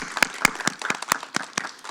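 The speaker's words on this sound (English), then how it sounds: "Let's give her another round of applause." Applause at a Black History Month convocation, with a handful of sharp, distinct claps standing out over a lighter, thinner patter from the crowd.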